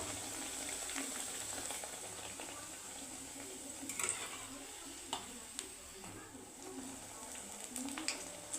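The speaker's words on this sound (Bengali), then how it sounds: "পালং শাকের কচুরিটা কি সুন্দর ভাজা হচ্ছে।" Spinach kachori, made with flour dough, fries in hot oil with a faint, steady sizzle broken by occasional soft pops and crackles.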